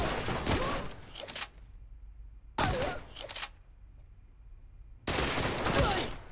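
Three loud bursts of rapid gunfire from the Blue Estate shooter, each lasting about a second and a half, separated by quiet gaps with a faint steady hum.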